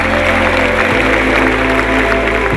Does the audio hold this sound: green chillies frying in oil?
no